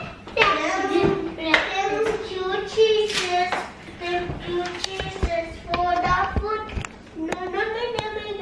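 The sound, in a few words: children clapping hands at the table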